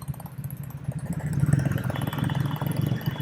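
Triumph Speed T4 motorcycle ridden through city streets, its engine a close, throbbing mid-pitched drone that builds in loudness as the bike accelerates, then holds a steady, uneven rumble.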